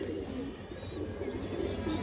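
Low, rolling coos from Khoragola pigeons repeat in soft waves at moderate loudness against a constant background hum.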